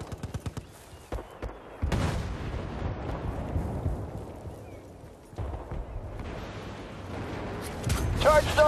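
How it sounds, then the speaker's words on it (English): Explosive booms and bursts of gunfire from a Battlefield Bad Company 2 firefight, loud and dense with repeated heavy blasts, a rumbling sustained roar of combat throughout, and voices shouting over it. "Grenade out!"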